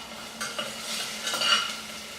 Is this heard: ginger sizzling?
yes